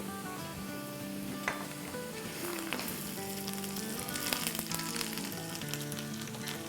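Onions sizzle in a pan with ginger and garlic paste, a steady frying hiss with occasional stirring scrapes, under faint background music and no talking.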